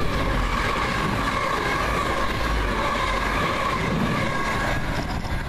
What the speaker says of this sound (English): Here comes a Transpennine service.